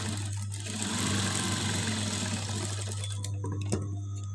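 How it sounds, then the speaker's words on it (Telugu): A sewing machine runs steadily while stitching along a fabric edge, giving a close, continuous motor hum that stops near the end with a couple of sharp clicks. "మిషన్ కుట్టు వేసుకోవాలి"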